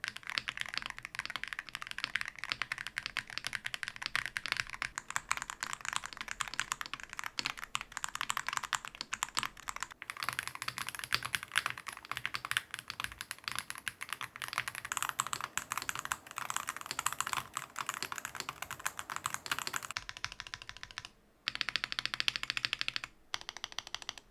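Rapid clacking of a Wooting mechanical keyboard being typed on, a dense, continuous stream of crisp keystrokes close up, with a brief pause near the end.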